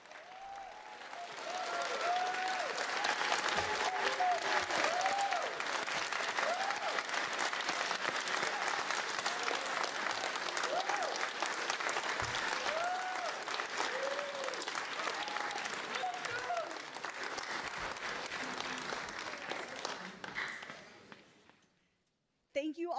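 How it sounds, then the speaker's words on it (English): A graduation ceremony audience gives graduates a long, warm round of applause, dense sustained clapping with crowd murmur and occasional cheers, a voice speaking over it at times, fading out near the end. "give a warm, warm round of applause for all of our graduates"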